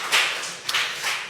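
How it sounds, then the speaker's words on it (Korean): Brief burst of seated congregation applause during a Korean church worship service, a steady wash of clapping at moderate volume with no voices over it. "박수 한번 하겠습니다."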